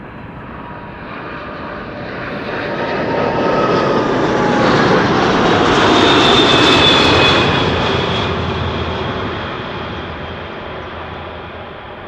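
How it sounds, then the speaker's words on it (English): A Cargolux cargo plane comes in to land at Amsterdam Schiphol Airport, its jet roar rising from a distant rumble to a loud, whistling pass overhead and then fading away, with no voices. "Cargolux flight 2613. Let's see and listen how it is going to land."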